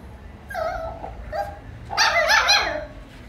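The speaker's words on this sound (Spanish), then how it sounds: "Así ladra." A small pet dog barks close by indoors, a few sharp yips and whiny barks in quick bursts with a brief louder flurry near the end, and no talking over them.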